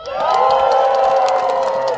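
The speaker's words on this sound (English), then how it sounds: "I want to hear what a great, big, rowdy Blue Mountain cheer sounds like." A loud crowd at a lumberjack show gives a big rowdy cheer on cue, shouting and whooping together in one sustained roar that holds steady for about two seconds.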